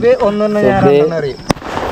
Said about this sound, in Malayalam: എല്ലാ വർഷവും വിഷുവിന് ഞങ്ങൾ തരത്തിൽ പടക്കം പൊട്ടിക്കാറ്